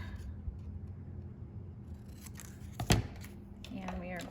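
Scissors trimming a paper banner piece in half for a handmade card, heard as one quick crisp snip about midway through, set against quiet room noise and soft handling sounds.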